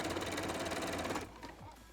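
A sewing machine runs at a steady, rapid rhythm while stitching down the elastic on a fitted mini skirt, then slows and stops after about a second, leaving lighter handling noises.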